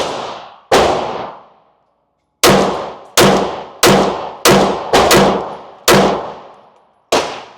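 Sig Sauer P320 Flux Legion pistol shots, loud and close, two spaced shots then a quicker string of about eight, each a sharp crack with a ringing decay.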